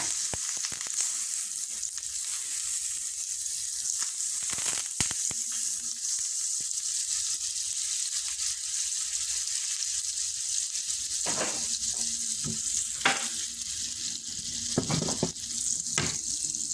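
Butter and oil sizzling in a pan for onion beef, a soft steady frying hiss with scattered clicks and a few louder utensil knocks toward the end.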